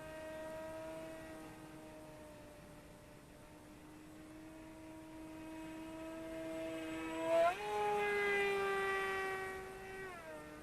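A Volantex Ranger G2 1200mm sport glider flies overhead, its electric propeller motor giving a steady, faint tonal whine that rises sharply in pitch near the end as the throttle changes, with no voices.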